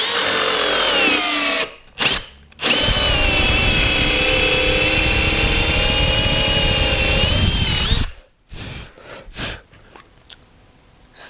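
A Bosch GSR 12V-35 cordless drill in second gear whines loudly and steadily through a long drilling pass after a brief start and stop, then winds down, followed by scattered handling clatter.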